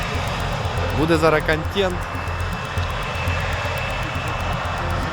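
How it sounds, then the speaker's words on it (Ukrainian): Whistling aviation engine of a captured 80 armored vehicle, a loud steady roar with a high tonal whine throughout, while someone speaks briefly over it early on. "80-ка, вона так от свистить, там авіаційний двигун"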